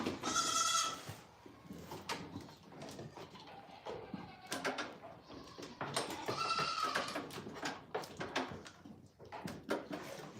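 Goats on a goat farm bleat loudly and repeatedly, long wavering calls overlapping one another, close by, with clatter and movement noises in between.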